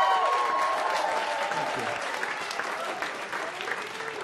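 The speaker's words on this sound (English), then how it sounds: "I notice the women are applauding." Women in a comedy club audience applaud steadily, a dense wash of clapping that stays fairly loud and even throughout with faint crowd murmur beneath.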